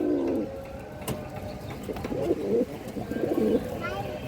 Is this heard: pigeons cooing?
yes